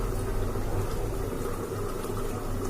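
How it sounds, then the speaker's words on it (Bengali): Chicken curry simmering on a stove in a pot about to be covered, a steady low bubbling boil rumbling continuously with no voices. "ঝোলটা ফুটে উঠেছে, কটা কাঁচা লঙ্কা দিয়ে তারপরে আমি ঢেকে দেব, কমিয়ে দেব।"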